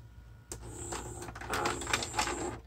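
A Toshiba SD-V296 VCR/DVD combo with an overheating fault ejecting: close, steady mechanical whirring and clicking from the tray mechanism for about two seconds after a sharp start.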